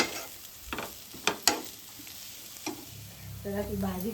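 A pan of wild bean pod vegetable curry stirred as it fries, soft sizzling broken by several sharp spoon knocks against the pan, then a brief voice near the end.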